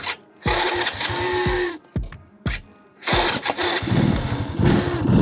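A motorcycle with self start and gears but no clutch, in Myanmar, cranks in short stuttering bursts with brief gaps between them, then catches and runs in an uneven, loud idle close by.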